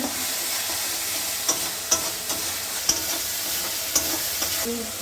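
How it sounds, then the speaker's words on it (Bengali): Spices for a jackfruit curry being stir-fried in a pan, a steady close sizzle with occasional light scrapes and clinks of the spatula, no voices. "ভালো করে কষাচ্ছি।"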